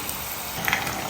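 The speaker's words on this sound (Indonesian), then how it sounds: "Terus ini kita mau goreng ayamnya ini." Chicken pieces fry in hot oil in a home kitchen, giving a steady, close sizzling hiss with a slight flare of crackle near the end and no talking.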